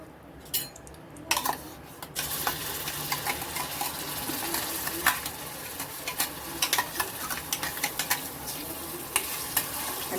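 Green chili paste frying with asafoetida in hot oil, loud crackling sizzle with quick spatula scrapes and light metal clinks against the pan, close up and continuous with no voices.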